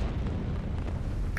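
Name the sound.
torpedo explosion in a video game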